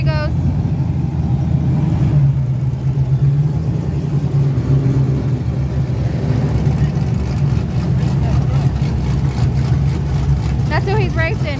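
A truck's engine drones loudly and steadily as it pulls away in a race, a low, rough rumble sustained close by. Voices talk over it throughout.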